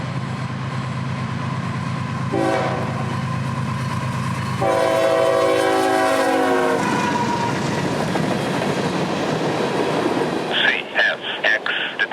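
A CSX freight train rushes past at speed on the RF&P main line, its horn blaring in long blasts over a steady rumble and rattling wheels, with clattering bursts near the end.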